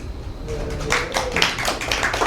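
A tech meetup audience in Las Vegas gives a brief, scattered round of applause, moderately loud and slightly uneven, with a short tone and faint voices before it.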